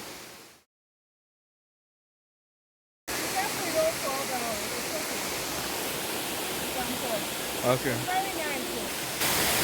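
Steady broadband rush of Adom waterfall at Obosomase, loud and continuous after a brief pause, with a few voices and a short word heard over the roar.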